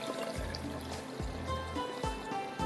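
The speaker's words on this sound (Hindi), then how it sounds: "तो इसके अंदर जाएगा पानी।" Water being poured into a raw mango aam panna mixture with cumin and black salt, a steady soft trickle and splash running continuously at close range.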